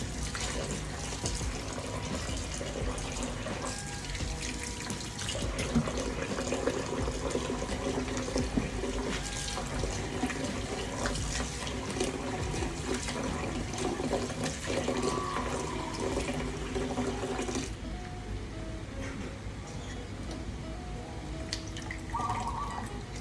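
Water runs and splashes steadily as pickled bamboo shoots are rinsed in a kitchen, a continuous close wash of trickling and sloshing that eases slightly near the end.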